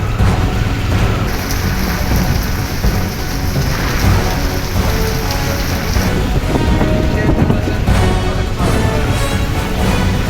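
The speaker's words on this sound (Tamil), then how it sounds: "நல்லா மழை பெய்யறது" Heavy cyclone rain pours steadily in Mannar, Sri Lanka, a loud dense wash of downpour lasting throughout, with gusts of wind and a low rumble beneath.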